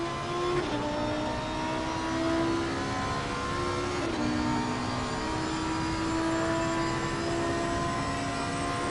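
A Lamborghini Huracan GT3 with a 5.2-litre 40-valve DOHC V10 screams along in a racing game: a steady, loud engine drone with brief pitch drops at gear changes, heard alone.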